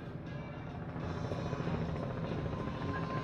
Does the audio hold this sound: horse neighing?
no